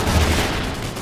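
Machine gun fire in Call of Duty Ghosts roars as a short, dense, loud burst of overlapping shots.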